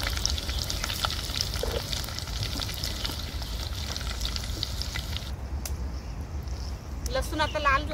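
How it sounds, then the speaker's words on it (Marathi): Crushed garlic cloves and curry leaves fry in hot oil with a steady, loud sizzle and crackle throughout, a brief spattering burst near the end, while someone talks over it. "तर आता तेल गरम झाले, आता मी कढीपत्ता घालते. तर इथे 10-12 लसणाच्या पाकळ्या ठेचून घेतल्यात,"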